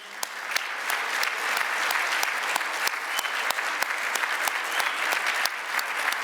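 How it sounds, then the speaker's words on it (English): A gala audience applauds the Campbell family at an anniversary awards event, a steady, dense wash of clapping from many hands that holds at an even level throughout with no voices on top. "Let's give a round of applause again to the Campbell family."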